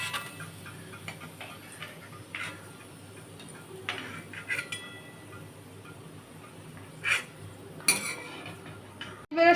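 Fried onion crisps for a wedding-style chicken curry lifted out of a pan with a metal utensil, a few soft scrapes and sharp clinks against the pan spread over a low background hiss, with no talking.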